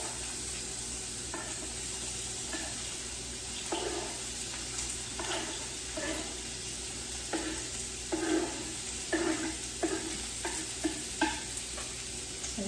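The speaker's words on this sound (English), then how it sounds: "Let me put my veggies in here and let them saute." Vegetables sautéing in oil in a pan give a continuous quiet sizzle broken by intermittent stirring scrapes and clatters over a steady low hum, no voices.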